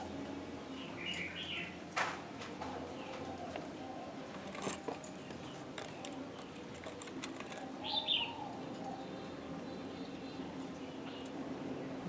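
A spotted dove calls outdoors amid ambient noise, giving a few faint, spaced coos and chirps over a steady background hiss, with scattered brief clicks and light rustles.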